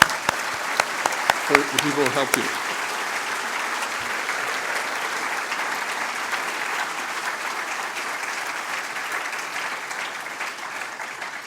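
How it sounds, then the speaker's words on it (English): An audience at a medical school white coat ceremony applauds the graduates' families and friends. A speaker finishes a sentence over the first claps, then steady, even applause fills the hall for several seconds. "and just a brief applause"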